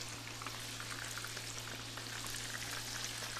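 Bitter gourd pieces and green chillies frying in hot oil for a karela chana daal dish, a steady dense sizzle with fine crackling throughout and a low constant hum underneath, no voices.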